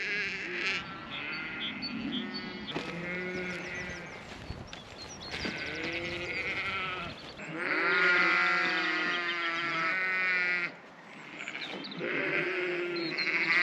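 Sheep and lambs bleat repeatedly on a farm during loading, several overlapping calls near and loud with brief pauses between bursts, against a faint buzz of flies.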